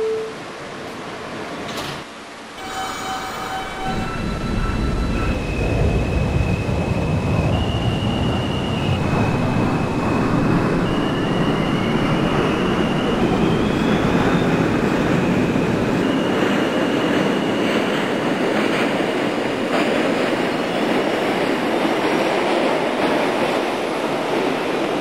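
An R160 New York subway train on the A express toward Brooklyn, simulated in the OpenBVE train game, pulls away with a rising motor whine and then runs steadily with a loud continuous rumble and wheel noise.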